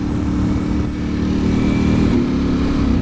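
A 2023 Ducati Panigale V4 SP2 sportbike runs under a rider, its engine a loud, steady drone with a slight rise in pitch toward the end, heard up close and without talk.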